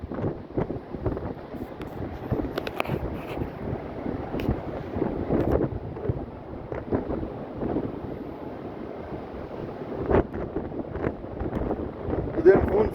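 Strong wind gusting across a 65th-floor balcony in Dubai during heavy rain, a steady roaring rush with irregular buffeting bursts against the microphone, close and continuous throughout.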